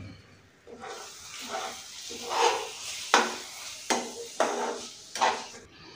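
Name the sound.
stirring cashew and melon seed paste in a pan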